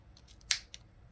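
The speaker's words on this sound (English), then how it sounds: "I'm going to cut my yarn." Scissors snipping through yarn during crochet, one sharp close snip followed by a fainter second click, quiet and brief, with no voices.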